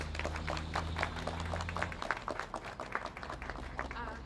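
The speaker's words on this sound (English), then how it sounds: "Mariah, please give a round of applause." Applause from the crowd at a Milwaukee anti-speeding campaign launch, a steady patter of many hands clapping at moderate distance with a low hum beneath, fading toward the end.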